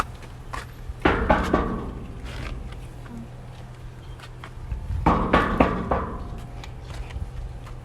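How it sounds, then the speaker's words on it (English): Knocking on a door comes in two bursts of several firm raps each, separated by a few quiet seconds, moderately loud against faint background noise. "Try knocking again."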